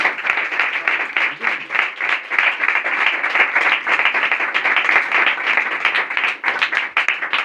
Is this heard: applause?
yes